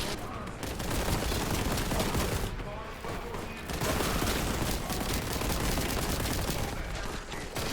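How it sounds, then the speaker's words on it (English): Constant loud gunfire from the first-person shooter Warhammer 40,000: Boltgun, with dense rapid shots and booms running nearly without pause throughout. "I can't hear my smack talk over all the gunfire."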